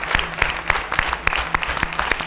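Steady audience applause at a televised national singing competition gala concert, with dense rhythmic clapping from a crowd, moderately loud and continuous throughout, no voices over it.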